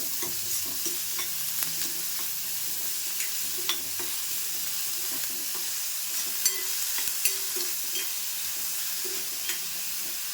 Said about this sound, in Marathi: लगेच आपण कांदा पण टाकून घ्यायचा